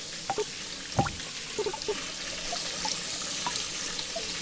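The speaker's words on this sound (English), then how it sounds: "I need to get the water flowing to the top" Steady, gentle rushing water with faint drips and splashes runs through a puzzle in the video game Albedo, soft and continuous beneath occasional small clicks.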